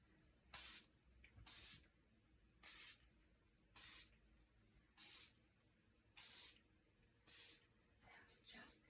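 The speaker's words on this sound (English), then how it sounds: "spray the pillows with this gorgeous jasmine" Jasmine and lavender pillow spray is misted onto pillows in about eight short, soft hissing bursts at an even pace, close and quiet against a hushed room.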